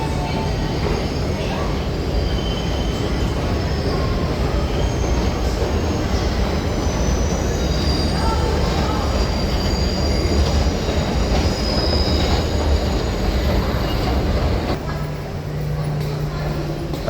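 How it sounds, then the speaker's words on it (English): A train pulls into a station with loud, continuous rumbling, rattling wagons and high wheel squeal, close and filling the space throughout; a voice speaks over the noise. "I can see my train pulling into the station there."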